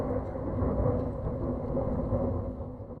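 A sample passed through an equalizer to pull out the C harmonics makes a dense, rumbling wash with a low tonal drone, steady and fairly loud for a few seconds before it cuts off abruptly, with no voices.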